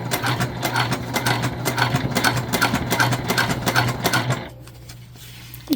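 A sewing machine topstitches upcycled denim jeans, its needle running in a fast, even rhythmic chatter for about four seconds before stopping and leaving a quieter hum and a brief handling sound.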